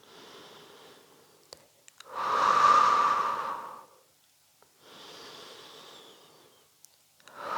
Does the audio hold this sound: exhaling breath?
yes